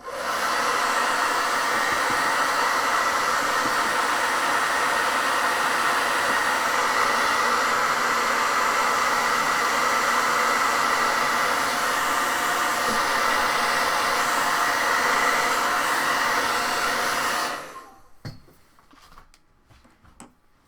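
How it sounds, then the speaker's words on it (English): A hair dryer drying gel ink blows loudly and steadily for about seventeen seconds, then cuts off, leaving faint scattered handling noises. "I'm going to hit it with the hair dryer."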